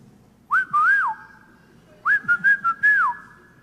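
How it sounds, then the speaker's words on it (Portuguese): A person whistles a short tune in two clear phrases, the second with quick repeated notes, close and bright with no talking. "Eu parei de pregar e comecei a assobiar."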